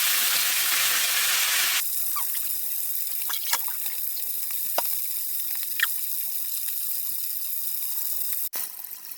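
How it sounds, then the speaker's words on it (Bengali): Fish pieces are dropped one by one into a hot pan, starting with a loud hiss that settles into a softer sizzle with scattered clinks and spatters nearby. "মাছগুলো একে একে ছেড়ে দিচ্ছি।"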